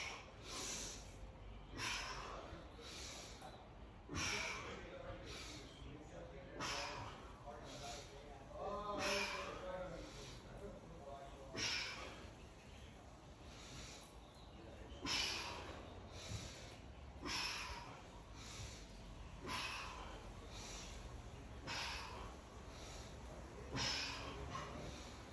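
Rhythmic, close breathing during a T-spine rotation exercise in a surf warm-up, with repeated sharp inhales and exhales roughly every couple of seconds under a quiet spoken voice.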